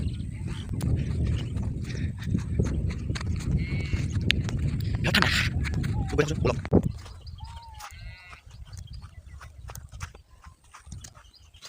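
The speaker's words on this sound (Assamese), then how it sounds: "কেনাই দৌৰিছে গৰুবিলাক" Cows chased along on a cold day, hooves clattering in quick irregular bursts amid rustling, loudest early then thinning out, with a brief spoken word and faint animal calls in the background.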